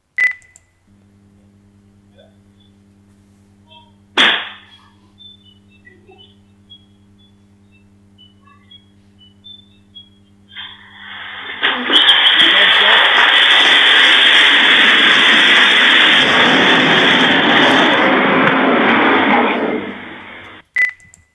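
An e-scooter's lithium battery goes into thermal runaway with a dog nearby: a low hum and faint beeps, one sharp crack, then a loud, sustained roaring hiss with popping cylindrical cells for about ten seconds before it cuts off.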